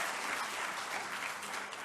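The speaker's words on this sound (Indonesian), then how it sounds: "Mari kita tepuk tangan untuk semua yang hadir." Brief, fairly quiet applause from attendees at a regional FGBMFI convention gathering, an even wash of clapping with no voices over it.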